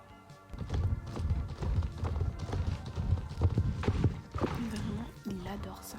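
A horse gallops across an open plain, its hooves drumming in a steady, rapid rhythm under wind and movement noise. A rider speaks at points.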